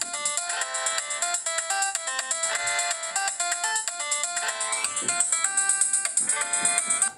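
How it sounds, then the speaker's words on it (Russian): Polyphonic ringtone melody playing from a Motorola RAZR V8 luxury edition phone, a bright synthesized tune with steady rhythmic notes, loud and close, no talking over it. "Вот такие вот у нас мелодии на телефончике."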